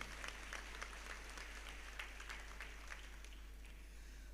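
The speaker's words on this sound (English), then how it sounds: "He deserves a big round of applause." Audience applause at a graduation ceremony, a dense, steady patter of many hands, moderately distant and faint, continuing throughout with a low background hum.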